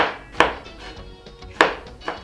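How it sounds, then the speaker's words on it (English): A knife chops fruit on a cutting board for a healthy breakfast smoothie, with sharp, irregular thuds close by and softer scraping in between. "Okay, so I'm just chopping"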